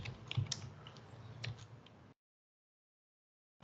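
Python code is typed on a computer keyboard in a brisk run of close, crisp keystrokes for about two seconds, then the sound cuts to silence.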